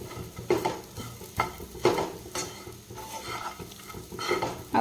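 Spiced sago pearls are stirred in a pan for Odia sabudana khichdi, giving soft scraping strokes in an irregular rhythm against a faint background sizzle, close by with no talking.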